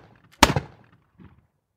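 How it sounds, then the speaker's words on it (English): A single sharp gunshot-like crack from Confederate watchmen firing warning shots at a Union river flotilla, loud and close, followed by a faint second report and silence. "Confederate watchmen see the Union flotilla and fire warning shots"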